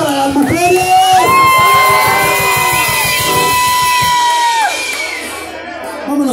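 Crowd at a neighborhood rock concert celebrating Mother's Day, cheering, whooping and shouting loudly together, a dense roar of many voices with high yells rising over it, fading toward the end.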